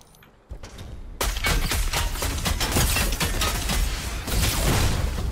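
Dense, rapid bursts of video game gunfire rattle continuously and loudly after a brief quiet start, like sustained automatic weapons fire in a chaotic firefight.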